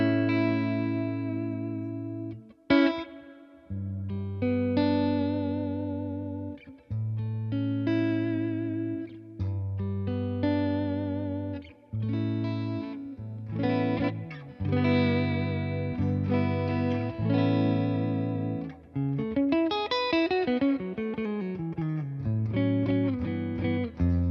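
Electric guitar through a Tone Master amp plays chords and single notes, washed in spacious reverb with a wavering, pulsing tremolo; no voices.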